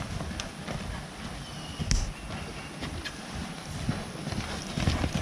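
A horse is ridden forward, and its hooves clip-clop in an uneven rhythm over a rough, windy outdoor background, with a slight scuffle partway through.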